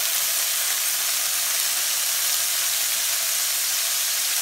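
Marinated steaks sizzling in a very hot frying pan, a loud, continuous, even hiss of fat and juices with no talk over it.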